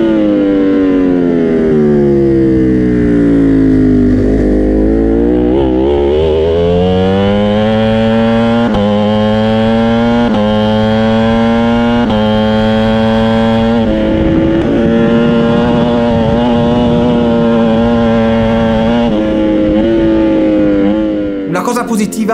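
A racing motorcycle engine on track drops through the gears using the clutch, a loud, close, droning roar whose pitch falls in distinct steps with each downshift, then rises and levels as it pulls on.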